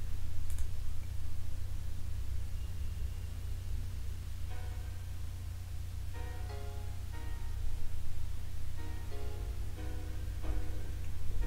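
Soft computer mouse clicks sound in small clustered bursts over a steady low hum, faint and close, with no talking.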